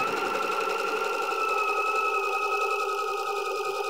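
A sewing machine runs a continuous straight stitch on a sweater being made into a beanie, giving a steady close hum that lasts the whole stretch without a break.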